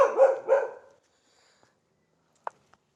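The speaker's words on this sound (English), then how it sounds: "So as you can hear, there are a lot of dogs around." A dog barks twice outdoors, fairly distant and moderate in level, followed by silence and a couple of faint clicks.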